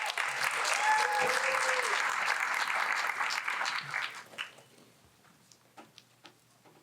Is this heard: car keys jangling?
no